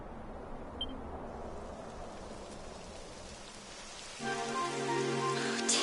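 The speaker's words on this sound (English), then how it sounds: "It would have to go and start raining, wouldn't it?" Rain in the game Dragon Quest XI patters softly and steadily, then a louder, brighter layer of rainfall swells in near the end.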